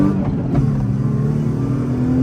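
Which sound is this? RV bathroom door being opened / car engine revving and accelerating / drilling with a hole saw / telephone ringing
car engine revving and accelerating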